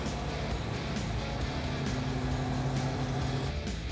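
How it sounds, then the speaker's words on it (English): A Coronet Hemi engine idling in an open-top car, a steady low rumbling drone that runs continuously and fairly loud throughout with no voices. "God, it's even idling nice."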